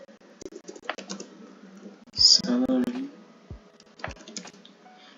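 Computer keyboard typing while entering MySQL commands: scattered sharp key clicks, with a short quick burst in the middle, close to the microphone, alongside faint low voice sounds.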